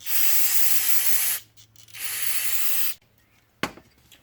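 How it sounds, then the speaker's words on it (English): Two loud, steady bursts of compressed air hiss from a nozzle onto air-cooled VW IDF carburetor jets, each over a second long, with a brief sharp knock near the end. "and then hit them with compressed air."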